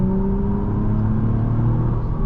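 A 2025 Acura TLX Type-S accelerates from the cabin, its engine a steady, loud low drone with rising tonal harmonics, continuous with no talk.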